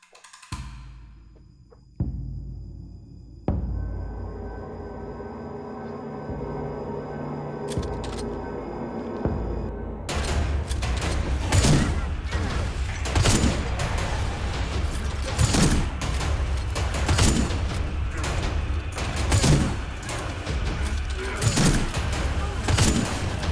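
Shotgun fire in the Lies Beneath VR game, heard after a quieter opening of tones and effects, as a series of sharp, heavy blasts spaced irregularly through the second half over a dense, loud backdrop, with voices talking in places.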